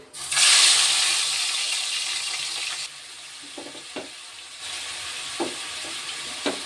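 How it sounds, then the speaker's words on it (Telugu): Prawns dropped into hot oil burst into a loud sizzle that settles into steady frying, with a few soft clinks of a utensil against the pan near the end. "వాటిని ఇప్పుడు ఈ ఆయిల్లో వేసేస్తున్నాను."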